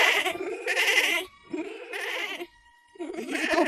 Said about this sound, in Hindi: जब वो घर में आए तो उन्होंने बकरी के बच्चों की आवाज सुनी।